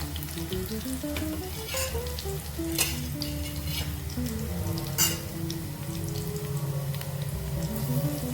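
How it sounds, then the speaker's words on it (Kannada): Onions frying in oil in a home kitchen, a steady close crackling sizzle with occasional sharper pops and light stirring scrapes, continuous for several seconds. "ಎಣ್ಣೆ ಒಳಗೆ ಫ್ರೈ ಆಗಬೇಕ್ರಿ ಉಳ್ಳಾಗಡ್ಡಿ ಚೆನ್ನಾಗಿ."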